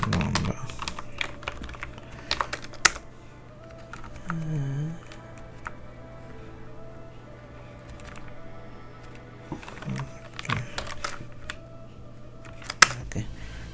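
Light, scattered keystrokes on a computer keyboard, quiet and irregular, with a steady background hum and a few sharper clicks.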